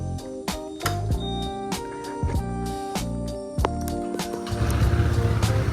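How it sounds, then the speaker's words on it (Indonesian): A Vario 160 motorbike engine idles steadily up close, a smooth, even running hum with regular low pulses and some clattering ticks, growing slightly rougher and louder toward the end; no voices. "Jadi kita dengar suara di mesin Vario 160 ini."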